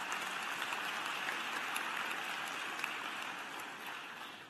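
Applause at a university graduate commencement ceremony, a broad, even wash of many people clapping in a large hall, heard from a distance and sustained throughout, tapering slightly at the end.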